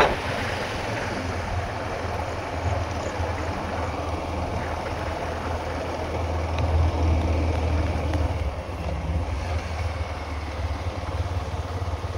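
Rushing water from Sarisua waterfall in Balasore, Odisha roars as a steady broadband wash, loud and continuous outdoors with some wind buffeting the microphone, swelling slightly midway.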